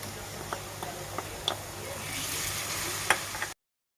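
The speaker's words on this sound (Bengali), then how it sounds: "আদা রসুনের পেস্ট দিয়ে দিচ্ছি" Ginger garlic paste fries with browned onions in a pan for Kashmiri chicken masala, a low steady sizzle broken by occasional sharp scrapes of a stirring spoon before it cuts off.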